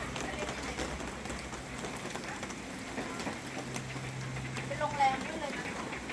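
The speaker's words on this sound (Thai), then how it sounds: "แต่ฝนตก" Rain falls outdoors at a children's attraction in Nonthaburi, Thailand, a soft, steady patter with scattered sharper drops, while people talk quietly over it.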